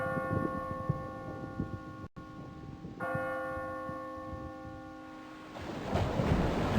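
Ambient sound effect mixing ringing bells with sustained tonal overtones and a low rumbling thunder-like wash, a brief cut midway, then swelling noise toward the end.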